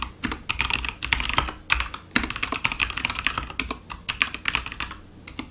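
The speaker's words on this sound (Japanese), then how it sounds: "こっちはキークロンの K2 というメカニカルキーボードです。 赤軸ですね。" Fast, steady typing on a Keychron K2 mechanical keyboard with red linear switches: a dense run of close, crisp keystrokes with occasional louder presses, no speech.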